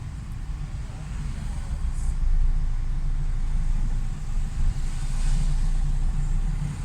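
Heavy morning road traffic in Şirinyer, Izmir, heard from inside a car during a driving lesson: a steady low rumble of engines and tyres with brief faint swells from passing vehicles.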